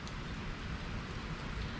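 Rain falls steadily on a beach house as a dense, even patter heard from underneath the structure, soft and continuous with no talk.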